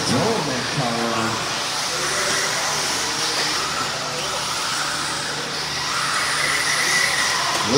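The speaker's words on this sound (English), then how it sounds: "Listen to that motor." Electric motor of a mod 4-wheel-drive RC buggy whining during a race at an indoor raceway, a steady high hiss and whir under continuous excited race commentary and crowd noise.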